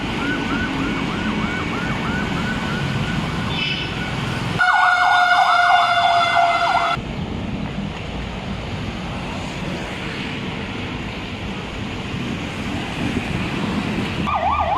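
Fire truck sirens wail at a commercial center blaze along EDSA in Quezon City, a loud warbling siren surging close for a few seconds over constant street and crowd noise, with fainter sirens around it.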